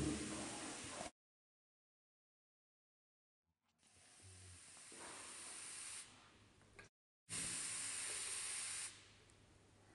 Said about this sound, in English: Now I'm just gonna mist over the hair I already did